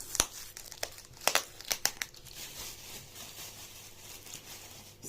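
Parcel packaging being unwrapped, close crinkling and rustling with sharp tearing bursts early on, then quieter continuous rustle, no voices.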